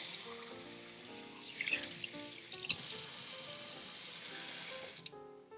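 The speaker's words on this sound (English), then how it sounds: "I'm going to just rinse it with some cool water." Cool tap water running over a whole raw chicken in a kitchen sink, a soft steady splashing stream that stops abruptly, heard under quiet background music.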